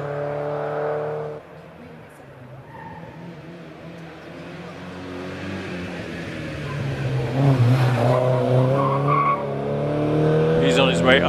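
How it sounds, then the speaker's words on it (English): A non-turbocharged Porsche 924 races up the Prescott hill climb course, its engine rising and revving with brief tire noise as it accelerates away, while a commentator's voice talks over the car throughout. "Andrew in a non-turbocharged Porsche 924."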